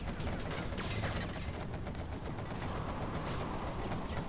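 An A-10 aircraft strafes in a video game, a dense, sustained roar of rapid cannon fire and explosions, loud and continuous throughout without voices.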